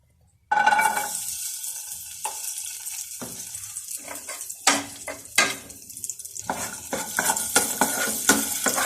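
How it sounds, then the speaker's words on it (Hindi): Almonds fry and get stirred in a pan, with a hiss of hot oil under clinking and scraping from a spoon against metal, building into busier, louder stirring bursts toward the end. "इसी पैन में हम बादाम फ्राई करते हैं"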